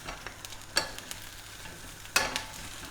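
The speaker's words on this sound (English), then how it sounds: "Just what I do is toss them into the spring onions and chilli just to get them coated." Prawns tossed with spring onions and chilli in a hot pan give a soft, steady sizzle, with two sharper scrapes of a utensil against the pan standing out near and clear, no voices.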